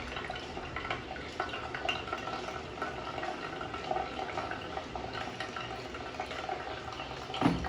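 Water poured from a kettle over coffee grounds in a pour-over brewer: a steady, soft, close trickle and splash with no pauses.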